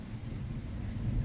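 Heavy rain with deep rolling thunder, a steady low rumble under a broad hiss of falling water, with no voices.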